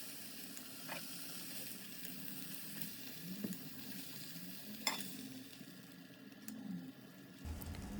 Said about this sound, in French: On met la viande hachée dans la même poêle.